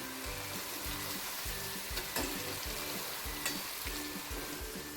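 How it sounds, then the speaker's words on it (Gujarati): Okra pieces deep-frying in hot oil until crispy sizzle steadily and loudly, a dense close-up crackle with faint scraping stirs, no voices present. "આપણે ભીંડાને તેલમાં એડ કરી દેવાનો છે અને ક્રિસ્પી થાય ત્યાં સુધી આપણે એને તળી લેવાનો છે"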